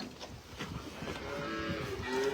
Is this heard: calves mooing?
yes